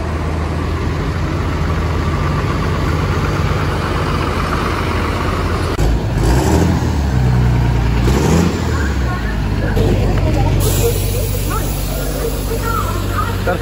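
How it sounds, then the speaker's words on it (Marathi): MSRTC Amravati–Bhopal bus at a bus stand, its engine idling in a loud, steady low rumble with a few heavier revving surges, while people talk nearby. "तर फायनली मित्रांनो आपली गाडी लागलेली आहे अमरावती भोपाळ."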